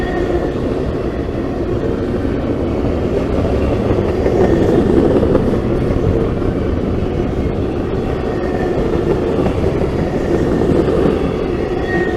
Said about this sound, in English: we're catching 2 trains at one time today